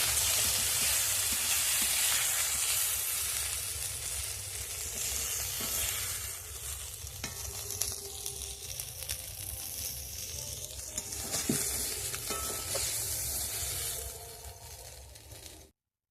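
Shrimp frying in a pan for a cauliflower curry, a steady loud sizzle with occasional stirring scrapes running throughout, fading slightly near the end.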